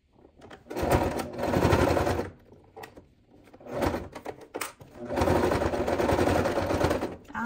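Sewing machine stitching a closing seam through thick fabric in three bursts of running, close and steady, with short pauses and small clunks between them.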